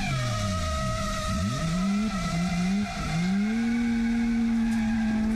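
A Toyota JZX100 drift car entering a corner on a mountain touge road: the engine note dips and swings through the transition, then holds a loud, steady, high rev with tire squeal, heard continuously and without voices.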